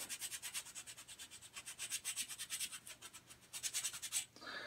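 A SandBar foot file scrapes across the calluses on the sole of a foot in quick, rhythmic back-and-forth strokes, close and fairly quiet, with a short pause near the end.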